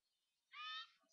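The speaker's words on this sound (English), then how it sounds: "if you heard that, it was the bird squawking again." A backyard blue jay gives a single harsh squawk, a short bright burst lasting about a third of a second, fairly distant against a quiet background.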